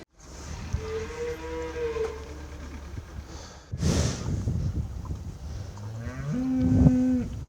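Cattle lowing on a dairy farm in a Ukrainian village: several long, loud moos, one early and another toward the end, with a short gust of wind noise in between and low farm background throughout.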